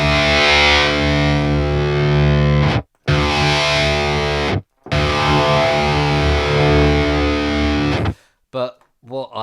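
Heavily distorted metal guitar tone through a Wavemind amp plugin with post EQ, sustained chugging chords in loud bursts separated by brief silences, ending in short choppy stabs.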